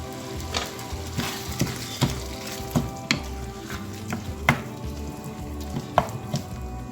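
Fried eggs are stirred into masala in a hot pan, the frying sizzling steadily under repeated scraping strokes and clicks of the spoon at close range, with no talking.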